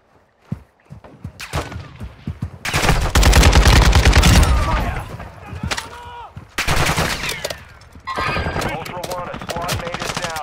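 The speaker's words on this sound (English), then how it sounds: "You are taking effective fire." Rapid automatic gunfire in a first-person shooter video game with an RPK, loud close bursts of shots in several volleys, with a voice speaking between them.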